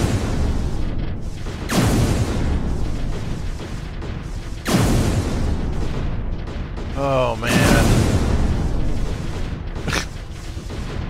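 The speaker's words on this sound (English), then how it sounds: "It's gonna be a lot of explosions for a little while here." Booming explosions from the Particle Fleet: Emergence video game, several loud bursts sounding in quick succession amid continuous game noise, with someone talking over them.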